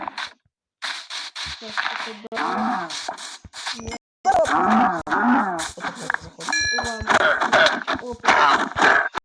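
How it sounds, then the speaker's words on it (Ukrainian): Cow mooing in the Minecraft video game, a few drawn-out moos heard close, alongside lively talk from players. "О, корова. Корова, корова."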